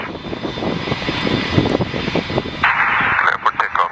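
Fixed-wing airliner taking off from runway 10 right at Dublin Airport, a steady broad engine roar at a distance with air traffic control radio talk laid over it.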